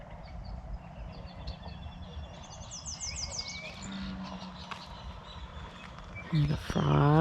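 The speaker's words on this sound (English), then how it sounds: "And the frogs and the birds." Birds call and chirp at dawn at Roper Lake State Park in Arizona, scattered trills and whistles over a low outdoor hum, with a few louder calls near the end and frogs among them.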